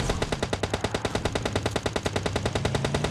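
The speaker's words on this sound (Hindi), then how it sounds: "अब इसने जब गोली चला ना तो मेरे को पता चला कि साहिल इस तरफ भी तो बंदा था भाई" Automatic rifle fire in PUBG Mobile Lite: a rapid, evenly spaced burst of roughly two dozen loud gunshots over about three seconds, sharp and close, with no talk.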